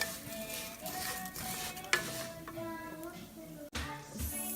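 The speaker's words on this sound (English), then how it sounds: "So while we are browning the rice" Rice toasts and browns in a pan, giving a steady close sizzle with stirring scrapes and a brief clatter near the end.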